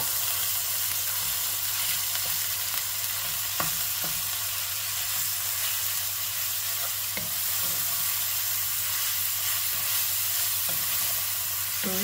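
Minced meat sizzling with garlic in a hot pan for pasta bolognese sauce, a constant loud frying hiss with a few soft stirring clicks, no talk.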